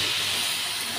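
Chopped apples hit a hot, dry pan with no ghee and give a loud, steady, broadband sizzling hiss that lasts the whole moment with no talk.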